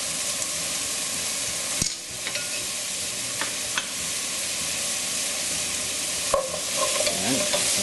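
Carrot, onion and celery sautéing together in a pan for Filipino chicken sopas, a continuous broad sizzle broken by occasional sharp stirring clinks and scrapes, close and unaccompanied by speech.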